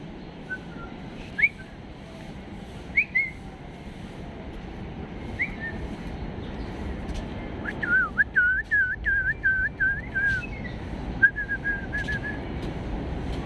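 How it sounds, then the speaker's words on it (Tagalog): Birds call in a forest park in the middle of a city, with sparse whistled notes early on and then a quick run of repeated calls midway, carried over a steady wind-like hiss. "yung honi lang ng ibon ang marinig natin"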